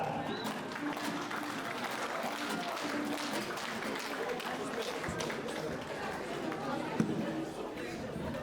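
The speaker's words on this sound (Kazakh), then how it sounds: "Шапалақ қайда?" Applause at a Kazakh betashar wedding ceremony, a dense, steady wash of clapping from a crowd filling the whole stretch, with chatter and voices mixed in underneath.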